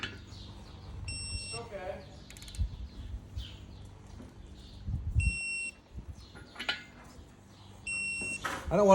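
A digital torque wrench gives three short, high electronic beeps, spaced a few seconds apart, during tractor repair work installing chopper knives, mixed with quiet ratcheting and mechanical clicks nearby.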